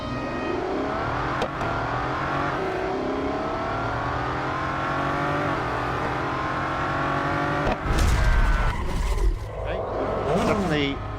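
Drag race cars in Real Racing 3, with a loud engine droning and rising in pitch through gear changes, then a burst of roaring revs and rumble near the end, with a voice speaking over parts of it.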